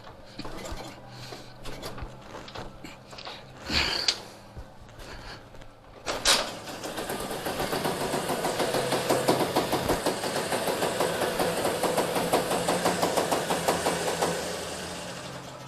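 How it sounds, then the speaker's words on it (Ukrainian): A Tula T-200 motor scooter sits in a garage. After a few clicks and a short crank attempt, its engine starts with a burst and settles into a steady, close, fairly loud putter that runs to the end; nobody speaks. "З'єднуємо і вмикаємо запалення"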